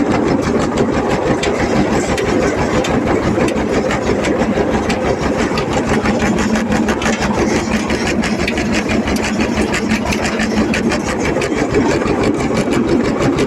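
A homemade potato planter runs steadily while planting potatoes, its engine drone loud and constant under a fast, rhythmic mechanical clatter that continues without a break.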